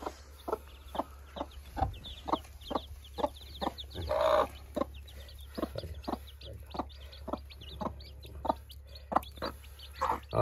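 Chickens cluck repeatedly at a Pakistani village home, short regular calls close by over a steady low hum, with a brief burst of louder squawking partway through.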